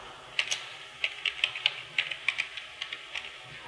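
Fingers typing on a computer keyboard, a run of about a dozen crisp, close key clicks in an uneven rhythm over a quiet background, with no voices.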